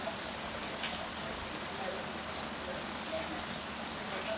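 Rain falls steadily outside, a dense, even hiss of drops on surfaces filling the background without pause.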